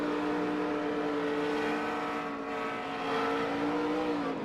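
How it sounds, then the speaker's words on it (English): A NASCAR stock car's engine drones loud and steady at the Coca-Cola 600 at Charlotte, with its pitch climbing slightly as the revs rise. No clear impact stands out. "you can hear the RPM go up there, then you can hear him hit the wall"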